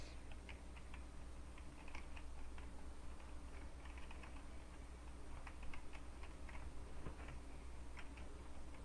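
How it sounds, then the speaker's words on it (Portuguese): Rapid, uneven clatter of computer keyboard keys during a Roblox Funky Friday rhythm game, with the clicks close and continuous over a steady low hum throughout. "Desculpa pelo meu teclado fazer muito barulho."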